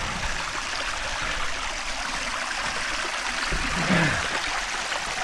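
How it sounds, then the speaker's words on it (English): Cold spring water pours steadily from a pipe outdoors, now running clear after a clog, a constant close trickling rush with a brief louder splash near the end. "Well, the water's flowing clear now."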